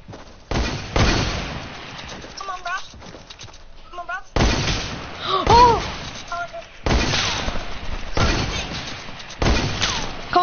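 Fortnite gunfire comes in several loud separate bursts of shots and impacts, with quieter stretches between, while other game sounds chirp faintly in the background.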